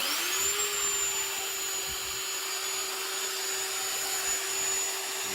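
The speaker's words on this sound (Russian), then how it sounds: "Пылесос." A vacuum cleaner runs from an inverter, spinning up with a rising whine in the first half second, then holding a steady, loud, close drone throughout.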